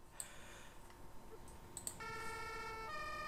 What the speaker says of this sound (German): Sehr schöne Sirene mal wieder.